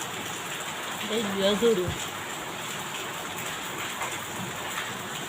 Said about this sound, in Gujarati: મસ્ત વરસાદ આવ્યો।